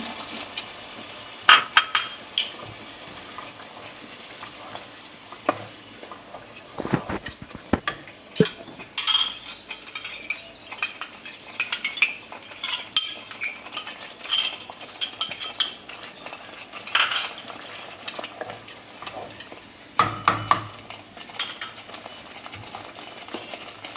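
Spice paste for a Bengali soybean curry stirred in a pan after a splash of water, with repeated metal utensil clinks and scrapes against the pan and a faint liquid hiss over about twenty seconds, no voices.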